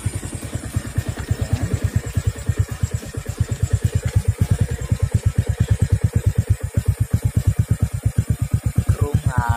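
A Honda Wave Alpha 110 motorcycle fitted with an Apido exhaust, idling close by with a steady, fast, pulsing exhaust beat that rises slightly in places as it is blipped.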